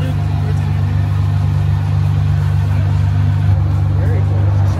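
A 2003 Cobra Mustang barn find, abandoned for nine years, runs with a steady, loud low engine drone that holds even throughout, without clear rises in pitch.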